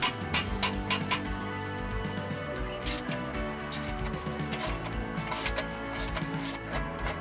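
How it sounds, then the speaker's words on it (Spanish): A ratchet with an 18 mm socket loosens a rear engine mount bolt on a Renault Megane II. It gives sharp, repeated clicks, quick at first and then spaced out, over a steady tonal background. "Con un vaso del 18 y una carraca, aflojar el primer tornillo."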